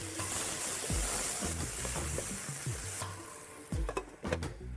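Onion and green chilli tempering sautéing in a pot: repeated scraping stirs over a quiet sizzle, a few sharp utensil knocks clustering toward the end.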